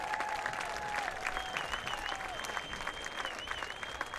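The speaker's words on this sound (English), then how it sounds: "Join me one more time in giving one more loud round of applause" Audience at a school athletic hall of fame induction applauding the 1993 volleyball team, dense steady clapping from a crowd in a hall, with faint whistles over it, continuous throughout.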